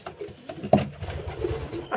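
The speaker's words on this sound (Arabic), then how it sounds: "هذا حمام بالمسافه" Long-distance racing pigeons of Belgian and German breeds coo in a loft, soft low throaty burbles close by with a few wing or movement sounds.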